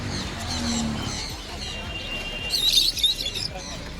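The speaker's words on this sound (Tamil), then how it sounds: "இதை பாருங்கள் ஸ்பென்சஸ்ஸு லவ் பேர்ட்ஸு இதை பாருங்கள் ஆப்ரிக்கன் லவ் பேர்டு" Lovebirds, including African lovebirds, chirp at a pet bird market among pigeons and cats, with bright, busy calls rising over a background of crowd noise and low chatter.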